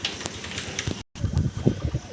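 Pigeons coo close by, soft low throaty calls repeating under some rustling and handling noise, broken by a brief moment of silence partway through.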